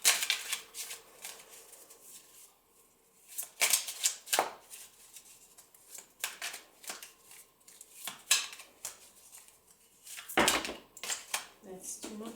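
Tarot card piles being shuffled in a soft close-up ASMR setting: repeated riffling and papery slaps in uneven bursts, a louder flurry near the end, with occasional light clinks of other objects.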